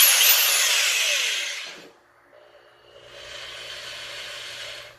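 Black & Decker 5.5 amp drill/driver spins up close with a bright, high whir, winds down briefly, then runs again at a lower speed with a softer, steady hum.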